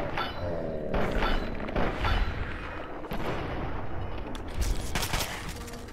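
Heavy combat shotgun blasts in Fallout 3, loud booming shots spaced irregularly over a noisy battle backdrop, with several strong thuds standing out.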